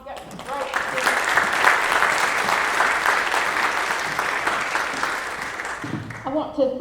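A crowd claps at an outstanding student awards ceremony, sustained loud applause running several seconds, with speech briefly at the start and again as it tapers off.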